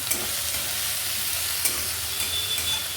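Gime greens frying in a pan with a close, dense sizzle and light stirring scrapes, steady and loud for a few seconds without speech.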